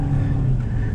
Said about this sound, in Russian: Кручу мотор до 4000 и еду.